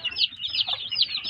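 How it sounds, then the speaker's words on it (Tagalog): Young native chickens give quick, high, repeated clucks and peeps close by, a busy little chorus with no talking. "So titingnan natin dito yung mga maliit nating manok."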